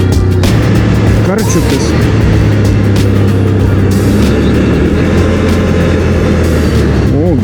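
A quad bike ATV engine revs hard as it accelerates along a gravel road, loud, close and continuous with wind rush, while a person speaks over it.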